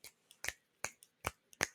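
Five crisp finger snaps ring out in a steady, unhurried rhythm, close and clear against near silence, with a faint extra snap just before some of them.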